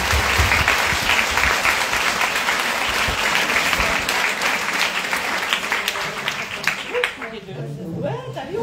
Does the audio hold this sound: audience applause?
yes